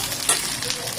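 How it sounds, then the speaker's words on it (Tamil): Eggplant and tomato sautéing in oil for a Tirunelveli-style tamarind curry, giving a brief, steady crackling sizzle up close with a soft stirring scrape. "கத்திரிக்காய் நல்லா வெந்ததும் இது கூட ஒரு தக்காளி நறுக்கி வச்சுருக்கிறதையும் எடுத்து போட்டுக்கலாம்."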